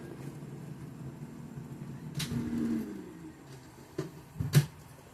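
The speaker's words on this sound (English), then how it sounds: "sorry for the noise, but that's my air fryer" A countertop air fryer runs as a steady low mechanical hum and fan whir, with a few short clanks or knocks near the end and a brief louder swell midway; no one speaks.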